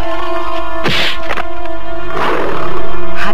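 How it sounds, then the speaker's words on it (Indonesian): Large striped tiger in an audio drama giving a loud, sharp roar, followed by a second, longer growling roar, with impact sounds in between and a steady tonal music bed underneath. "Harimau besar berwarna belang yang sesungguhnya adalah Bobongkong itu dengan mudah mengelakkan serangan Prabu Purbaya."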